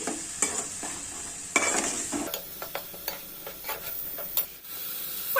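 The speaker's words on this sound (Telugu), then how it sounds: "ఇప్పుడైతే వీటిని మనం కొంచెం ద్వారాగా వేపుకోవాలి" Ground onion paste fries in a pan and is stirred, producing a steady close sizzle broken by repeated scraping and clinking strokes of the spoon against the pan.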